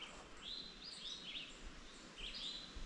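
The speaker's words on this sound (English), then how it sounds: "Birds are active all trail long so far." Wild birds chirp along a forest trail near Kline Ridge View on the Mid State Trail, with several short, bright calls scattered through the clip over a soft, steady outdoor background.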